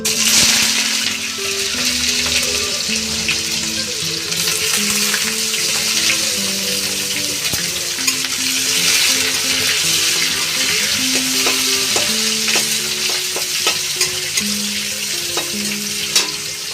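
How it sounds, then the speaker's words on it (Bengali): Chopped hog plums (amra) hit hot oil with popping mustard seeds, giving a loud, steady frying hiss while a spoon stirs and scrapes the pan throughout. "এবার আমি আমড়া কুচিগুলো দিয়ে দিচ্ছি।"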